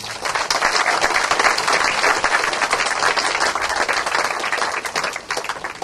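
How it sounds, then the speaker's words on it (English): A club crowd at a sports grant announcement gives guests a loud, sustained round of applause, dense clapping at close range holding steady before easing slightly at the end. "please welcome our guests with a big round of applause"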